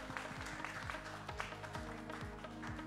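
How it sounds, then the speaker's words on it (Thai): An audience at a corporate campaign launch event applauds to welcome a speaker, giving steady, fairly faint clapping with a low electrical hum underneath. "ปรบมือนางต้อนรับกับดร. ณภัสนันท์ พันนิภาครับ"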